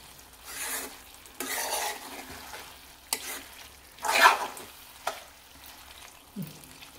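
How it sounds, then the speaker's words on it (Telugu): Bottle gourd curry with fresh coriander is stirred in a pan, with repeated scraping, sizzling strokes in an uneven rhythm, close and moderately loud. "కొంచెం కొత్తిమీర వేసుకొని మంచిగా కలుపుకొని"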